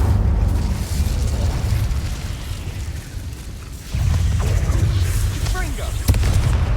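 In Hogwarts Legacy, an Incendio fire spell fills the scene with loud, continuous rumbling, whooshing blasts that swell and dip, mixed with faint in-game vocal sounds.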